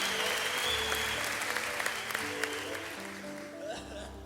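Audience applause at a large Ethiopian youth gathering, steady clapping from many hands lasting several seconds, with a few voices faintly under it.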